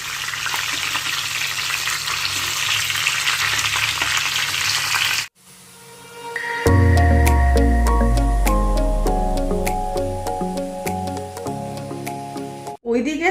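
A large fish, brought whole with its head, frying in a pan with a loud, steady sizzle that cuts out briefly and then resumes strongly; no one speaks over it.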